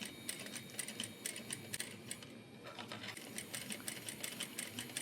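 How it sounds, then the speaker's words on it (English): A sewing machine runs steady top stitching along a zipper pouch, a close, fast mechanical chatter that pauses briefly midway before carrying on. "I'm going to top stitch about 1/8 inch on either side."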